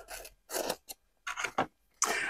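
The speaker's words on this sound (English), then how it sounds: "using a pair of scissors to cut off" Scissors snip through a roll of Japanese rice collage paper in a series of short, crisp, close cuts separated by brief pauses, with no talk over them.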